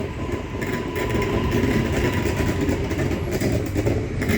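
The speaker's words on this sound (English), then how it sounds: "it meets the actual Cranbourne train down there" A steady, loud rumble of a train rolling through Caulfield Station in Melbourne, with continuous rail and engine noise and no voices, constant throughout.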